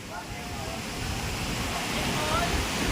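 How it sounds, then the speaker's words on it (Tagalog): Tukuran Falls, a waterfall in San Teodoro, Oriental Mindoro, makes a steady broadband rush of falling water that swells slightly louder partway through, with faint voices in the background. "Ganda, waterfalls."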